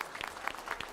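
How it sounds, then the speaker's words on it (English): An audience claps briefly at a school board meeting, a short burst of scattered hand claps in a room. "could we please give him a round of applause?"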